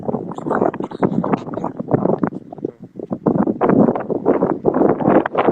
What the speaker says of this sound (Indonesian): Ini bunyi adalah bukan bunyi ombak, tetapi bunyi angin ya.